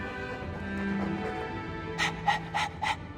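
A dog in the video game Dragon Age 2 pants close and clearly, several quick rhythmic breaths toward the end over a low ambient game hum.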